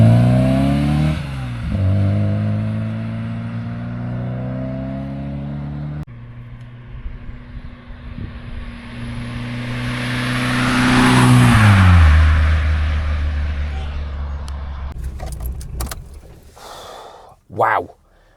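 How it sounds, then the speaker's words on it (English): A tuned engine in an MG Metro revs hard on the move, its pitch climbing through the gears with sharp shifts between pulls, swelling to a loud peak before easing off, followed by a few thumps. "That engine pulls amazing."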